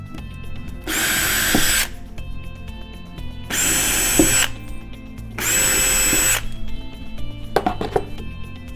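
A power drill drives screws into a wall to hang an Aqualisa eMerge electric shower unit, giving three separate whirring bursts of about a second each, spaced by brief pauses with small tool clatter, close and loud.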